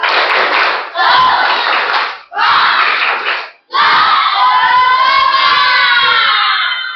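Children in a classroom chant the tepuk semangat clapping cheer together, loud group voices in four bursts, the last one long and sustained with rising shouted tones.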